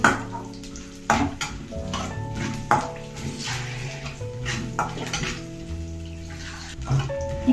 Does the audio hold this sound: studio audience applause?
no